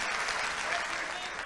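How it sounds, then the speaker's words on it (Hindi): A literature festival audience breaks into steady applause, a dense, even wash of clapping from a crowd that lasts briefly without letting up. "तालियां बजाओ"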